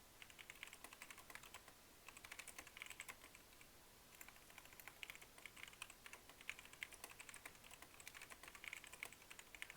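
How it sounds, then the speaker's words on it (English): A computer keyboard clatters under rapid typing during an online game match, bursts of sharp close clicks coming in uneven runs with brief pauses, fairly quiet overall and with no talk. "you're gonna hear the very loud clicking of my keyboard"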